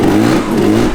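Derbi GP1 motorcycle with a Piaggio engine and a newly fitted airbox, revving loudly and steadily close by for under a second, its buzzing engine tone holding firm without a break.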